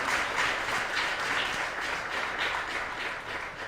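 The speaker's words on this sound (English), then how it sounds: "Let's give them a round of applause" An audience at an International Women's Day 2022 event applauds the panel speakers, a steady wash of many hands clapping close and loud throughout, with no voices standing out.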